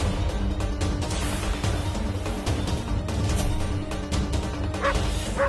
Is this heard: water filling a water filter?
no